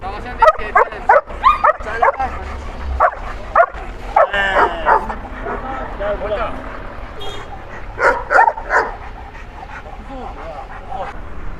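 Dogs and puppies at the Sabunçu dog market yip, bark and whimper in bursts close by, with panting between and people talking over the noise.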